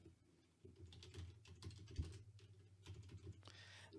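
Rapid keystrokes on a computer keyboard as a title is typed into news bulletin software, the clicks coming in quick irregular bursts over a steady low hum.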